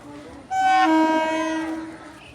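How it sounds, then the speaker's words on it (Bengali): A train pulls into a station and sounds one loud, sustained blast of its horn, which rises abruptly, holds for about a second and then fades. "ট্রেন চলে আসছে, চলো টাটা।"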